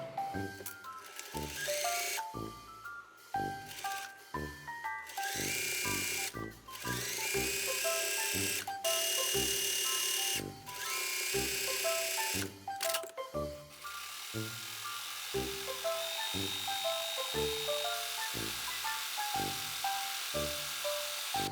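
A sewing machine stitches a trouser hem in repeated bursts of fast, buzzing running, broken by short pauses. The motor's whine is close and fairly loud throughout.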